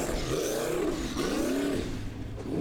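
A formula offroad race car at an Icelandic round in Akureyri revs its engine hard, the tone rising and falling in a few sweeping surges, fairly distant and steady throughout with no talk.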